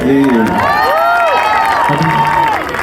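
A concert audience at a live song performance cheers and whoops loudly, with crowd shouts and scattered clapping filling the space throughout.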